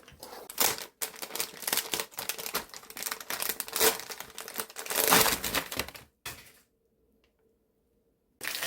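Parcel package torn open by hand, a close, loud run of crinkling, ripping and rustling bursts for about six seconds, then near silence before a final rustle.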